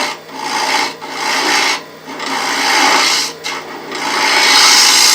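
A swept-back grind bowl gouge cuts a wooden bowl spinning on a lathe, a loud continuous rasping hiss that swells and briefly dips several times as the tool is drawn back and pushed in.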